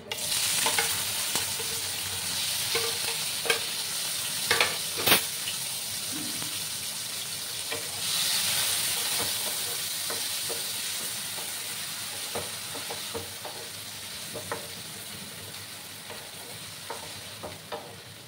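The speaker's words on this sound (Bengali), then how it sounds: "তো আমার তেলটা গরম হয়ে গেছে। এবার আমি চিংড়ি মাছগুলো দিয়ে দিচ্ছি।" Small prawns sizzle in hot oil in a pan, a bright continuous frying hiss broken by spatula clicks and a few sharper pops, heard up close with nobody talking.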